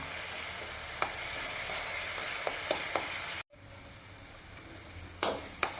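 Onions fry in a pan with masala spice powders and salt, giving a steady close sizzle broken by a few sharp scraping stirs.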